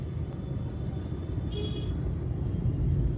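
Heavy street traffic in Varanasi, a continuous low rumble of cars and engines close by that swells slightly toward the end, with a brief higher whine in the middle and no talk.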